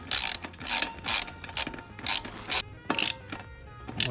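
A ratchet wrench tightens the mounting bolts of a Doppler ER1 exhaust, giving loud, close, rhythmic clicking bursts with short pauses between strokes.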